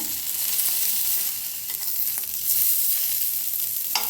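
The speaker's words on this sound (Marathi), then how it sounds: "वांगी फिरवून घेतलेले आहेत आणि थोडीशी भाजून घेऊया आपण" Eggplant pieces sizzle and fry in a pan while being stirred, a steady close crackle with occasional scraping clicks from the spoon, no talking.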